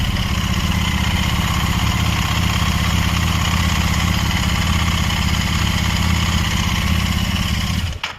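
Royal Enfield motorcycle idling at high RPM just after a cold start, a steady loud unbroken engine drone with fast even firing pulses, close up, then cut off abruptly near the end.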